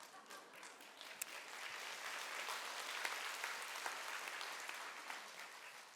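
A lecture audience applauds. The clapping is fairly soft and diffuse and swells slightly in the middle before easing off, with a few sharper claps standing out.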